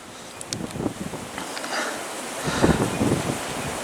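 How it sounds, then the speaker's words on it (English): Gusty wind blows outdoors across open hills of the Wolds, buffeting the microphone in uneven rushes that swell and fade. "it's a bit windy"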